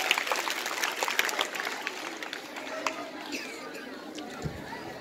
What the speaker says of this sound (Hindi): उनका जोरदार तालियों से स्वागत कीजिए